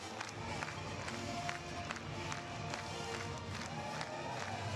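College baseball crowd at a Wake Forest versus Clemson game cheering and clapping after a home run, a loud sustained roar with rhythmic claps and shouts throughout, announcer talk mixed in.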